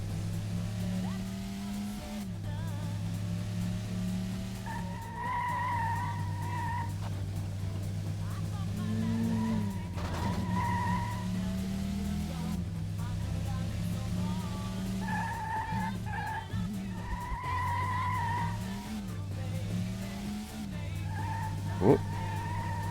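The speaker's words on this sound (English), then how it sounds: "Might as well go for a cheeky handbrake slide." A car handbrake slide in the video game Metropolis Street Racer, with a steady engine drone and repeated tire squeals rising and falling over about twenty seconds, ending with a sharp knock.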